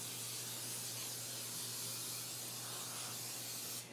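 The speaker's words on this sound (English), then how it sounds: "All right, I'm gonna spray my muffin tins." Cooking spray hisses in one long, steady, close burst as muffin tins are greased, fading out abruptly at the end.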